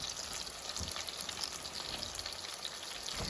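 Bean and potato flautas fry in hot oil, giving a steady, dense crackling sizzle that stays loud and even throughout with no voices over it.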